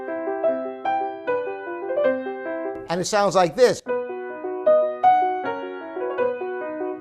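A piano plays a melodic phrase of single notes and chords, pauses while someone speaks briefly, then plays the phrase again at a clear, moderate volume.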